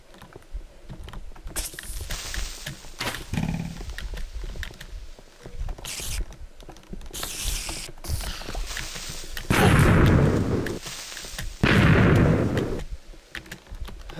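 A creeper explosion in Minecraft, two loud close noisy booms a few seconds apart standing out over scattered clicking and rustling game sounds.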